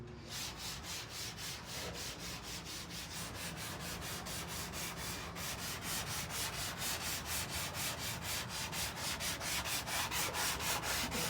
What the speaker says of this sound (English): we have started sanding on the car